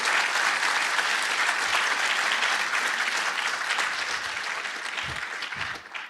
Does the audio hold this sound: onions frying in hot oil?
no